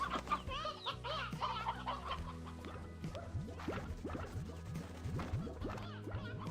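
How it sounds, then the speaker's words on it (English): Chickens cluck and squawk in the Slime Rancher 2 video game, with several birds calling together in a busy, continuous flock chatter that stays fairly close and steady throughout. "You just release chickens?"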